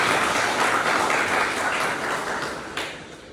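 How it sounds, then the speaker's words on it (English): Loud, dense audience applause at an academic agriculture gathering, a continuous wash of many hands clapping close by that gradually fades toward the end. "let's give him a very big applause"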